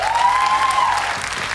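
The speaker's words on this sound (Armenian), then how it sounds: "ծափահարություններ։" Studio audience applause on a televised talent show gala, a short burst of dense, loud clapping from a crowd throughout.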